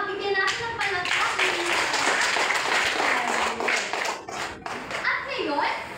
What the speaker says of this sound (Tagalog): Bigyan natin ng palakpak.